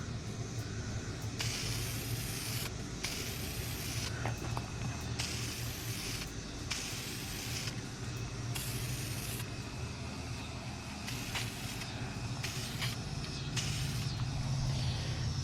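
VHT Nite Shade aerosol paint sprayed in light coats over a Hellcat Redeye exterior part, short hissing bursts of roughly a second or two repeating at a steady pace, close by, over a low rumbling background.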